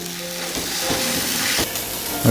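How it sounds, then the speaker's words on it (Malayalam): Sausages grilling in a lightly oiled pan give a steady, close sizzle and crackle, with a few soft stirring scrapes and a brief louder flare near the end. "നമ്മുടെ സോസേജ് ഒന്ന് ഗ്രിൽ ചെയ്തെടുക്കാം പാനിലാണ് ഗ്രിൽ ചെയ്യുന്നത്"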